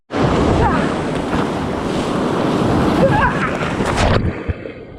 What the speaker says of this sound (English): The ocean is so scary here.